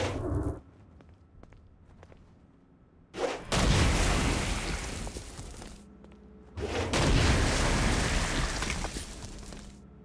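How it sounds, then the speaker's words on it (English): Stone Blast power in Saints Row: Gat out of Hell hitting a flying demon, heard as two loud, dense booming blasts of several seconds each, separated by quieter game ambience. "Stone Blast is especially useful on flying demons like this one."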